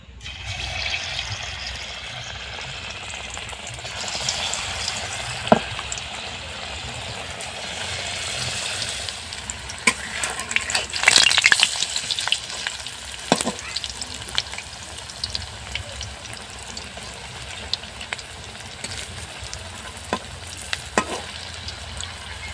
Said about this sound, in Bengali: এরকম করে আমি প্রত্যেকটিকে ভাজবো